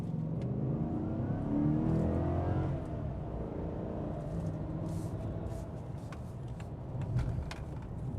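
A Chevy Silverado V8 pickup truck accelerates on the road, its engine note climbing in pitch for a few seconds. It then settles into a steady mid-level roar with tire and road noise from inside the cab.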